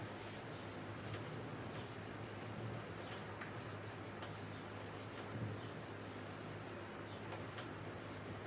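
A rag rubs wax into wooden furniture in steady, close, scratchy strokes that continue without a break, with no talking over the sound.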